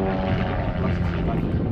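A propeller aerobatic aircraft performs at the Finland International Airshow 2014, its engine a steady, dense drone with a commentator talking over it.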